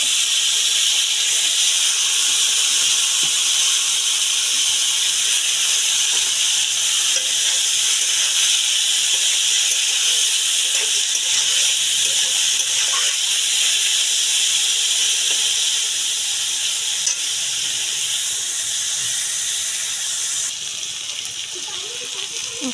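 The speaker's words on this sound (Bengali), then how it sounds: "তেল দিয়ে দিলাম, হলুদ দিয়ে দিলাম, তারপর আমি উস্তা আলুটাকে এখানে দিয়ে দিলাম।" Bitter gourd and potato fry in hot oil with turmeric, giving a loud, continuous hissing sizzle that holds steady throughout and eases slightly near the end.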